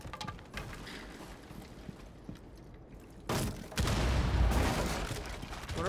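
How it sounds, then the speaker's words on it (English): Bursts of rapid gunfire crackle in Rainbow Six Siege, then a sudden loud explosion rumbles in, followed by more heavy booming blasts and shooting. "What are all the explosions?"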